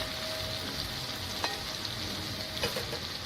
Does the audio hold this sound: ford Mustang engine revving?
no